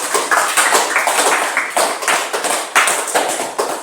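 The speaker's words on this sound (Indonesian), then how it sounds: "Kita berikan aplaus kepada kelompok 3." Classroom applause for a student group after their presentation, a steady burst of many hands clapping close by in pulsing waves for nearly four seconds, with no talking.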